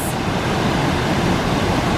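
Raging falls at Steelhead Falls pour in a loud, dense, continuous roar of rushing water that stays steady and close throughout, with no voices.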